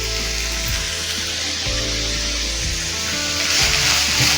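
Chicken cabbage salad sautés in a pan with no added oil: a loud, close, continuous frying sizzle with light scraping and stirring throughout.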